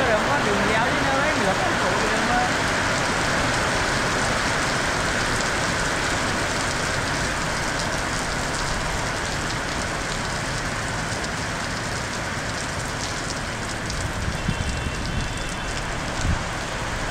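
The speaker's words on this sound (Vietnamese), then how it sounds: "Mưa tới tải đấy mà lâu đi săn gặp mưa nữa rồi." Heavy rain pours steadily outdoors during a slingshot bird-hunting trip, a dense continuous hiss that stays loud and even throughout.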